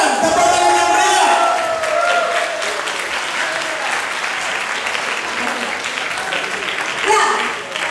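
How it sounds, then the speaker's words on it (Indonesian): Loud, dense audience applause in an indoor hall, a sustained wash of clapping with some cheering and shouts, starting strong and tapering slightly before a brief swell near the end. "Tepuk tangan yang meriah"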